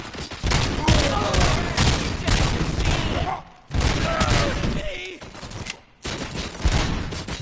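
Loud, rapid bursts of gunfire and heavy impacts from the Robocop: Rogue City video game fill most of the span, with brief gaps between volleys and excited voices shouting over the shooting.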